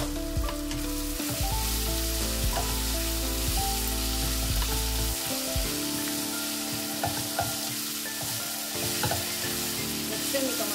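Masala powder fries in a pan for a garlic gravy with steady sizzling and stirring scrapes across the whole stretch, alongside a low hum early on.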